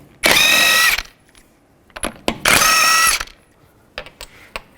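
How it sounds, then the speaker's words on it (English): Power ratchet with a 21mm socket spinning off wheel lug nuts on a 2005-15 Nissan Xterra, two loud buzzing bursts under a second each, separated by metallic clicks and clanks. "Take a 21mm socket,"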